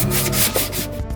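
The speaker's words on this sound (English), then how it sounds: "So yeah, we're not done with the sanding" Sandpaper rubbing over primed foam armor pieces for a Stormtrooper costume, a steady close scratchy scraping in repeated strokes with no talking.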